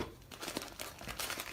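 Two chamomile tea bags being dropped into a jar of boiling water, giving short, close crinkling and rustling bursts of paper, quiet and without talking.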